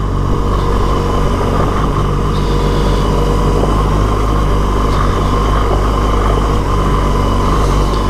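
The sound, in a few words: vehicle engine driving in low gear on a dirt track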